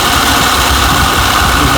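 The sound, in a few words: Toyota Camry V6 A/C compressor running with engine idling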